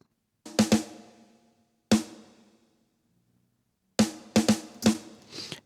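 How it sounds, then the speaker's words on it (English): Snare drum in a rock kit, close-miked from the top: crisp, ringing hits come alone in a loose pattern, a pair, then a single stroke, then a cluster of quick hits, each decaying with a resonant ring. "And the snare sounds like this."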